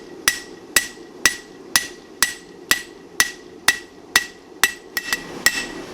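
A hammer strikes a Damascus steel chef knife blade, forging a distal taper into the spine, in about a dozen sharp ringing blows at a steady rhythm, loud and close with no speech.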